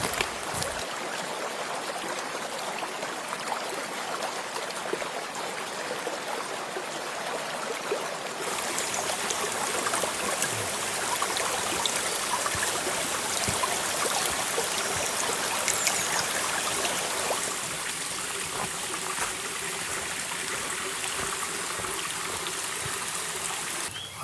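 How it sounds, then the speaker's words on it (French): Small, fairly dried-up forest stream trickling along a wooded valley, a faint, steady watery hiss with a shift in character partway through, no talk over it. "Et on a ce ruisseau, plutôt, c'est pas une rivière encore, hein, qui est quand même assez asséché"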